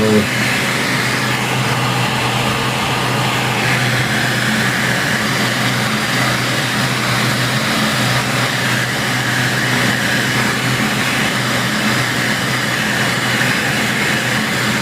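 A heat gun blows hot air onto the screen of a Le Max 2 (x829) phone during screen removal, giving a constant loud whooshing fan drone with a steady motor hum that never changes throughout.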